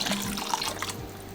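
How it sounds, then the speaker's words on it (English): Starchy pasta water pours into a pan of cream sauce in a steady, close liquid stream with soft splashing throughout, and no one speaks. "Add about 1/3 cup of that pasta water,"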